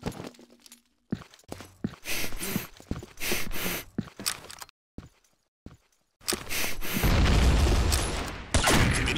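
Gunfire in the online shooter Combat Arms, loud bursts and single shots in quick clusters separated by short silences, with a longer sustained volley of fire toward the end, heard during an official match.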